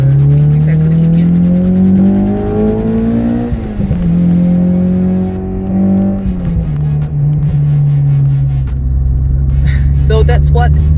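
A Honda Euro R engine revs hard and climbs as VTEC engages near 6,000 RPM, a loud, steady rising drone with shifting pitch under light talk.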